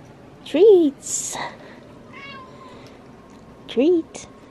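Two distinct cat meows a few seconds apart, close and clear, with light rustling and a faint chirpy sound between them.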